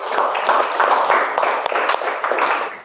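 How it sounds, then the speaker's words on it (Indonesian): A classroom full of people clapping together, steady and fairly loud for a few seconds, with no voices over it. "Tepuk tangan untuk kita semua."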